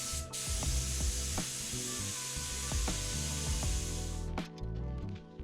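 A spray gun hisses steadily as Upol Raptor epoxy primer is sprayed onto a Talbot Express campervan, with a continuous loud spray broken by a short pause and then resumed, accompanied by faint knocks and rattles.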